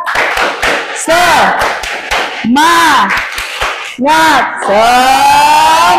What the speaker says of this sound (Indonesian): kita tepuk semangat sekali lagi untuk mencarikan suasana